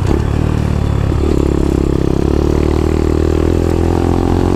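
A Dax 140 motorbike engine revs loud and close while wheeling, running rough and sputtering under throttle with an uneven, faltering note throughout.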